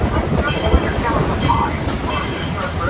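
A Georgetown Loop Railroad train in Colorado rolls over a bridge across Clear Creek on its descent from Silver Plume, a steady, loud rumble of wheels and cars heard from on board, with a voice talking faintly over it.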